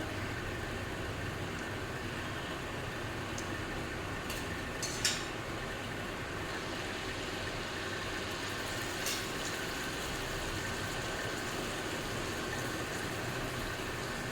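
Ripe banana malpua batter puffs up while frying in hot oil, giving a continuous soft hiss with occasional small pops, close and fairly quiet with no one talking.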